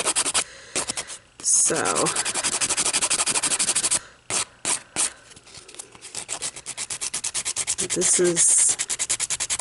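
Builder gel nails are filed in fast, rhythmic rasping strokes, loud and close, with a brief pause in the middle and a voice speaking over the filing.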